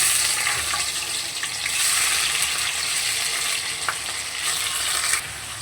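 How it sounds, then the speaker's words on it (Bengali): Paneer pieces fry in oil in a pan, making a dense continuous sizzle that swells now and then as the cubes are stirred, close and fairly loud throughout, with no voices. "এবারও আবার বাকি পনিরগুলোকেও ভেজে তুলে নেব"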